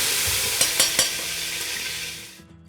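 Hairtail fish pieces get a second deep-fry in hot oil, a loud, close crackling sizzle with a few sharp clinks of a utensil, fading out at the end.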